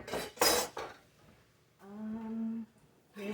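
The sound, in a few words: dishes being moved aside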